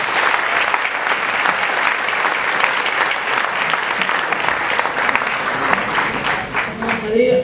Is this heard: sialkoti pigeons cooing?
no